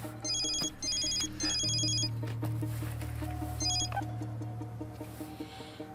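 A telephone ringing from a hidden number, the repeated electronic ringtone bursts sounding close and clear over a low steady hum, with no talking.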